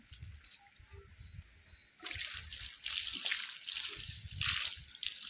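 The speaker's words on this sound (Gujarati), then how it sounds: "પાણી છોડવાનું કામ ચાલુ છે" Water runs from a pipeline onto rose plants, a soft trickle that swells into a louder, steady splashing rush after the first couple of seconds.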